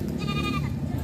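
Goats bleating at a busy livestock market in Padre Garcia, Batangas, with harmonic cries rising over a dense, loud crowd din and background voices.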